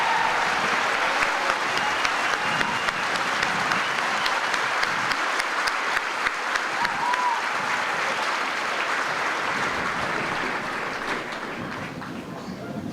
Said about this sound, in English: please join in a round of applause